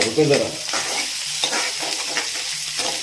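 Onions and curry leaves fry in a pan for a chicken dish, with close crackling sizzle and a few scraping stirs of a utensil over a short stretch.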